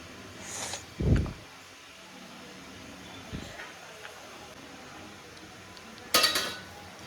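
Glasses set down one at a time in a kitchen, a few separate clinks against a hard surface, with a sharp knock near the start and a bright clatter near the end amid quiet room noise.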